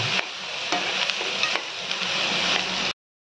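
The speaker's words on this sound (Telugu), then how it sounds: "ఉల్లిపాయల్లోనే అల్లం వెల్లుల్లి పేస్ట్ వేసాం కదండి, అందులో ఈ మష్రూమ్ చేస్తున్నాం" Mushrooms frying in a pan with onions and ginger garlic paste give a steady, close broadband sizzle, interrupted by a few scraping stirs before it cuts off abruptly.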